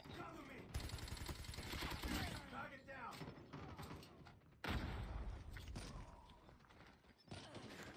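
Light machine gun fire in Call of Duty Mobile on the Reclaim map, dense rattling bursts in long runs broken by brief pauses, loud and close, with mechanical clicks mixed in.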